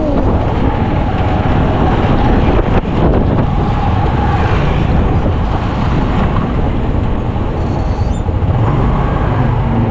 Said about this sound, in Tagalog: Lakas na ng hangin, no?